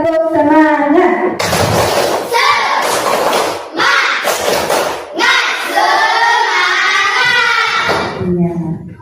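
A classroom group of children in an Islamic religious education lesson performs a rhythmic spirit clap, with repeated sharp hand claps and thumps mixed with loud chanting voices throughout.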